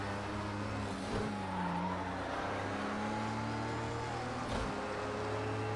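An Audi R18 e-tron quattro LMP1 race car at Monza in Project Cars 2 drones steadily under acceleration, a continuous close engine tone with rising pitch and brief tire noise, no talking.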